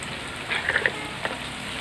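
Coriander powder, chili powder, turmeric and chicken masala sauté in a pan for Kozhikode chicken biryani, making a steady close sizzle with a few sharper crackles and stirring scrapes.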